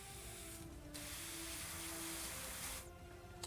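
An airbrush sprays paint onto Khorne Daemons miniatures as a steady, close hiss in two bursts, with a faint mechanical ticking and short gaps between sprays.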